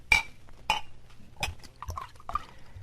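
Liquid is poured from a bottle into glasses at a saloon bar in an old radio western, with glass clinks, short glugging pours and soft splashes spaced apart, close and quiet, with no voices.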